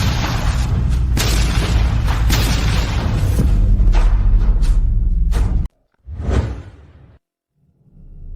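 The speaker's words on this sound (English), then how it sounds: "the gunpowder explosion seriously injured Prince Ethan" A gunpowder explosion in a historical drama: dense rushing whooshes and deep booms build into a loud blast, followed by a sharp silence, another swelling whoosh and a fading rumble.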